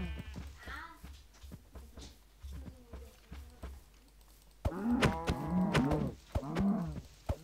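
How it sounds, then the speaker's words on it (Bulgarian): A Minecraft cow lows in several drawn-out moos, faint and intermittent at first, then louder and closer near the end, with no talk. "Още една крава намерих."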